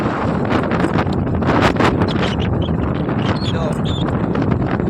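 Strong wind buffeting the microphone in loud, continuous roaring gusts, with rustling mixed in.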